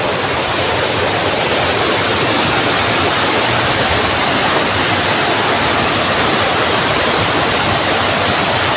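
A small forest waterfall swollen after heavy rain, with water pouring down among ferns, gives a steady, full hiss that sounds close and continuous throughout. It stays even with no pauses, and nobody speaks.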